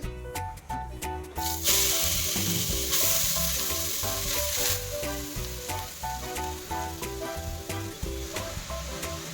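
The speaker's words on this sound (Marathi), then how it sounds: "त्याच तुपामध्ये आपण किसलेले गाजर घालायचे आहे" Grated carrot frying in ghee left over from roasting dry fruits, a loud, close sizzle and hiss that rises as the carrot goes in and carries on with scraping stirring strokes, no voices.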